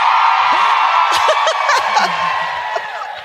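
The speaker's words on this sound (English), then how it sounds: "Don't cheer for mottos" A live comedy show audience at a festival in San Francisco, loud whooping and cheering mixed with scattered laughter and chuckles, sustained throughout and easing slightly toward the end.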